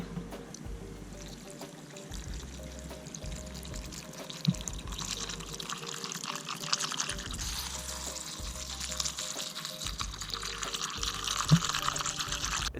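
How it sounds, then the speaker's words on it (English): Water pours into cups of wood pellets and charcoal pellets, a steady close splashing and trickling fill that runs continuously with a low hum underneath. "We got our cups, let's fill them up with water."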